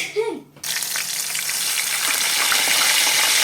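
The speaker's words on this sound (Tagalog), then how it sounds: "dito naman po ay nagpiprito ng mga kurakon" Kurakon fish sizzles loudly in hot oil after a short pause, a steady, dense crackle of frying that continues without letting up.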